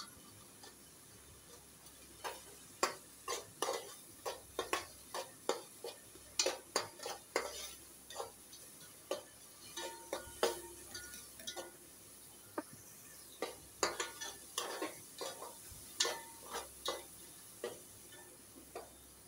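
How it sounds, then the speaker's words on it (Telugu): A spoon stirs an okra pulusu mixture in a pan, making repeated clinks and scrapes against the metal in an uneven rhythm, close and clear, with no voices. "వేసి ఎంత బాగా కలుపుకోవాలండి."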